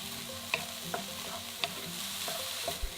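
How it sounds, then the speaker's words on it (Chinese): Bamboo shoots stir-fried in a little oil, with a steady close sizzle broken by several sharp clicks and scrapes of a utensil against the pan. No one speaks. "之后上火，我先炒一下笋，放一点油"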